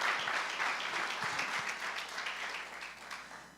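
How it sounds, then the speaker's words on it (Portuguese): A church congregation breaks into sustained applause, a dense wash of many hands clapping that fills the room and slowly tapers off toward the end. "Dê um forte aplauso a Ele então nessa manhã"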